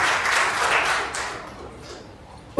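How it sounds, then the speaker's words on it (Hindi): An audience applauds at the inauguration ceremony of a college for the deaf in Jodhpur, the clapping loud at first and then gradually fading away. "जोरदार तालियां तो बनती है"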